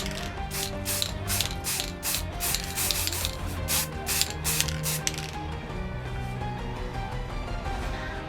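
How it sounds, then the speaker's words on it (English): Short hissing bursts of an aerosol spray paint can in a quick series, close up, painting a 3D-printed sword replica, followed by mechanical rubbing and rattling noises. "I'm just using spray paint again"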